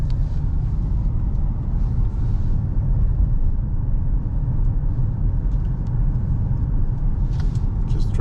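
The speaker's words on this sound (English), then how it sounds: "So we're going on a little test drive of the Explorer." Steady low road rumble and engine hum inside a 2013 Ford Explorer police vehicle with 76,000 miles, cruising through a neighborhood at an even pace with no talk.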